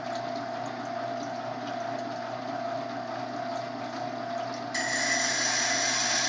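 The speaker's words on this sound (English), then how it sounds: "This is a really nice water wheel, and that really takes off some metal there." A water-cooled sharpening wheel grinds a Mora knife blade, producing a steady whirring, rasping drone that brightens into a harsher, louder hiss partway through, close and continuous.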